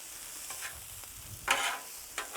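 Sausage fried rice being stirred and tossed on a Blackstone griddle, a soft continuous sizzle broken by a few quick scraping strokes of a spatula on the flat-top, close by, with no voices.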